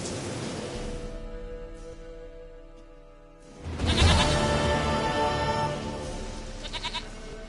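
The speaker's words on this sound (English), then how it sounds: "Goat of mine, dearest," A goat in The Witcher 3: Wild Hunt bleats in several long, quavering cries, loud and close, with a louder burst of bleating in the second half.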